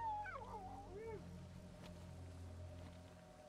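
A dog howls in the Darkwood video game, a short rising and falling wavering cry at the start over a low ambient drone and rumble that continues afterward.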